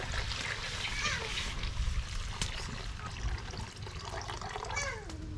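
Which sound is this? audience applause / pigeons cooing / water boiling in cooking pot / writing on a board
water boiling in cooking pot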